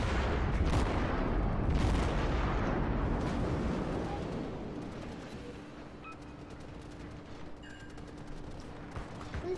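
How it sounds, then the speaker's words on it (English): Anti-aircraft guns blaze from a ship in World of Warships, a dense, continuous rattle of rapid bursts and booms that is loud at first and thins into a steady background chatter with faint tonal hums. "the AA guns on Hitman ship are just going nuts"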